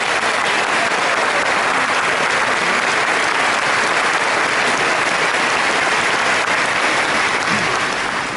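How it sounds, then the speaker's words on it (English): An audience gives loud, continuous applause for the composer of a symphony for six alphorns, the dense clapping of many hands sustained evenly and close throughout without pause or speech. "Give him an enormous applause."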